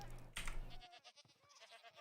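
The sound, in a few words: screaming goat bleating in Minecraft snapshot 21w18a, video game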